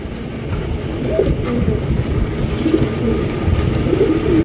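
Several pigeons, including a large black fantail, coo nearby in soft, rolling phrases, repeating at intervals over a steady background hum.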